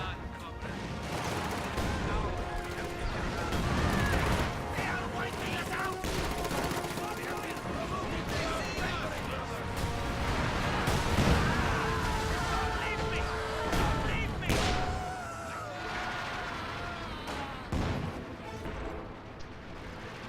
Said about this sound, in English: Pretty nasty incendiary artillery right there.